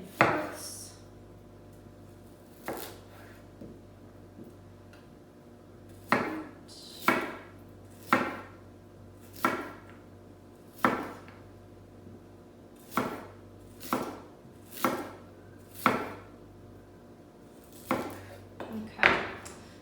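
A knife slices vegetables thinly on a cutting board, giving a series of crisp, close chops in uneven clusters, sometimes two or three in quick succession, over a quiet background.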